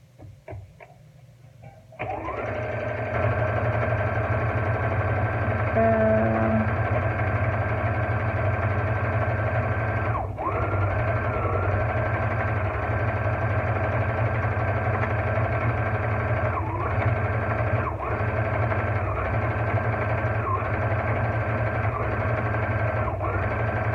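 A sewing machine runs steadily while stitching a DIY pillow, a continuous close mechanical hum with a fast even stitching rhythm after a brief start, carrying on for about twenty seconds.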